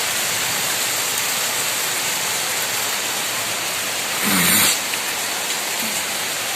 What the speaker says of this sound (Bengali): কি হারে বৃষ্টি হচ্ছে, সকালবেলায় নেমে গেছে দেখো